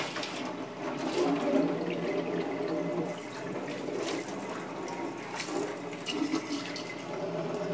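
Water runs and splashes into a drain, rinsing debris away while an aquarium is cleaned, a moderately faint, steady gush with fluctuating trickles.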